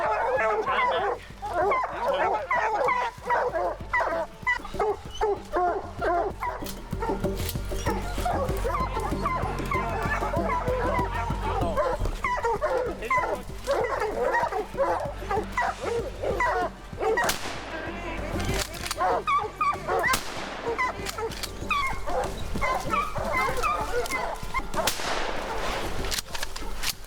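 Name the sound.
hunting dogs barking and yipping on a bear hunt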